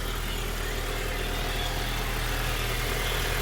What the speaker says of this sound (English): So right now we have the car on.